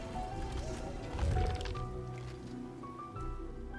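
Water draining away in the video game Ori and the Will of the Wisps, a soft liquid gurgle and squish that swells briefly then settles under tonal game music.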